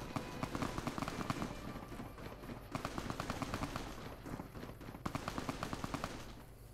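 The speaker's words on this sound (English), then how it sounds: "That was a fast firefight." Rapid gunfire rattles through a firefight in Fallout New Vegas: dense, overlapping bursts and single shots crackle steadily for several seconds, loud and sustained, with no talking over it.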